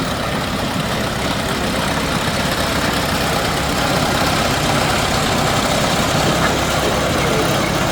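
A 1915 Bray vintage tractor engine runs steadily in a show parade, a continuous low rumbling idle with broadband mechanical noise, fairly close and loud throughout with no pauses.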